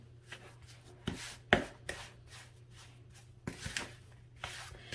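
Cookie dough made with flour and eggs is mixed by hand in a bowl, giving soft, irregular scraping and knocking strokes, faint and close, with a few sharper taps.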